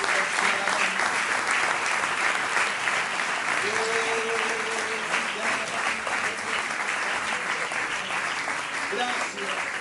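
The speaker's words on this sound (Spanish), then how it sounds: "Denle un fuerte aplauso a Cristo Jesús." Church congregation giving loud, sustained applause during a Friday service, a dense even clatter of clapping filling the space with scattered voices and cheers mixed in throughout.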